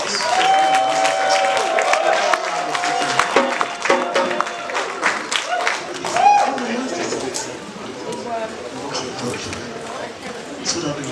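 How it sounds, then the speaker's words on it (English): Conference audience clapping in a hall, a dense sustained wash of applause with some crowd noise mixed in, steady for the whole stretch and thinning slightly toward the end. "Can we give a round of applause?"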